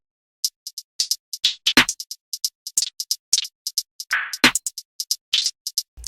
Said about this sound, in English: Then from there I went and did this hi-hat.